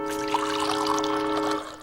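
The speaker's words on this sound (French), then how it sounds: "déjà le robinet fonctionne" Water runs from a tap in a steady trickling stream that fades slightly at the end.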